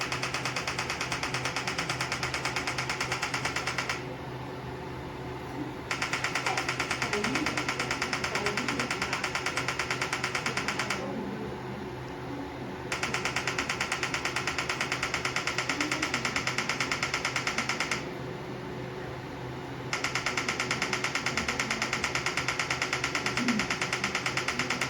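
EMS HIEMT body sculpting machine running with its cooling on, giving a steady, fairly quiet mechanical hum with faint rapid pulsing that dips slightly in level at regular intervals.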